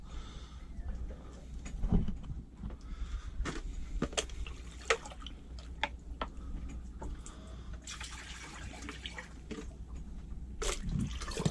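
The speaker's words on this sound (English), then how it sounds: "if I pour some water in there, it's on at the switch and it's not pumping" Water trickles and drips unevenly into a boat's bilge pump that is switched on but not pumping, with scattered splashes and small clunks, fairly quiet and close, no talking.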